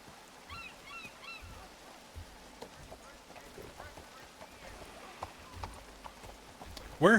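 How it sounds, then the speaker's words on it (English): Horse hooves clip-clop faintly and irregularly in Red Dead Redemption 2, the scattered footfalls sitting under quiet outdoor game ambience with some birdlike chirps, before a louder sound at the very end. "Let's go, horse."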